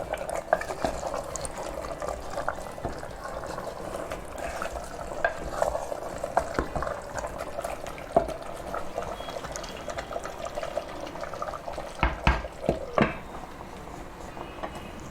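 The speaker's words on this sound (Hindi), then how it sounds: "धीरे धीरे मीट गलने लगा है, मसाले इसके बीच में पकने लगे हैं" Mutton masala simmering in a handi pot while a spoon stirs through it, a steady low bubbling and sizzle with soft scraping strokes and a few sharper clinks near the end, no talking.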